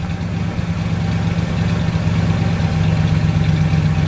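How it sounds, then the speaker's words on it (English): A 1970 Ford XL Sportscoupe's 429 cubic inch V8 idles with a low, steady rumble and a slight rhythmic pulse, close by and constant, with no talking. "Give it just a second and let it idle down."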